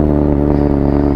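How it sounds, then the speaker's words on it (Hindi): A superbike fitted with an aftermarket exhaust idles through its warm-up, giving a loud, steady, throaty engine drone with rich low harmonics and no pauses and no talk. "तो आज फर्स्ट टाइम के लिए वार्म अप साउंड आप लोग सुन लो"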